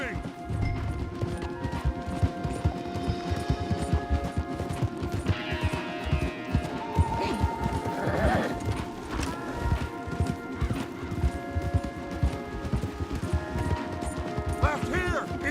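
Horses gallop with quick, steady hoofbeats in Red Dead Redemption 2, a continuous clip-clop running the whole time under a bed of music and game effects.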